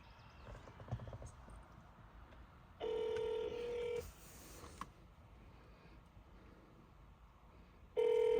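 A telephone call rings out over a handset as two long, loud electronic ring tones separated by a quiet gap, with faint room noise and small clicks in between.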